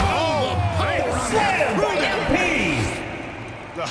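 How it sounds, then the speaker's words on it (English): Loud crowd at an NBA All-Star basketball game roars and cheers continuously after a slam-dunk finish, a dense wall of noise with whoops and shouts, fading slightly toward the end. "the crowd goes crazy after seeing that finish"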